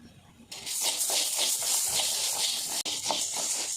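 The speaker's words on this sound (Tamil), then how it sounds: "இதை நல்லா வறுத்துக்கலாம்." Green gram lentils dry-roasting and being stirred in a pan, a steady close sizzling hiss with gritty rattling that starts abruptly and continues loudly, briefly cut once near the end.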